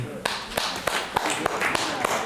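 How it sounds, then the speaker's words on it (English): Seminar audience applauding at the close of a talk, a thin, scattered patter of claps with a few sharper hand strikes standing out, fairly distant and modest in volume. "Can I give you guys a round of applause for your attention?"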